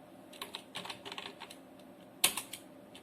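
Quick, light keystrokes on a computer keyboard while SQL code is typed, a short irregular run of clicks ending in a sharper key press, close and quiet with no talk.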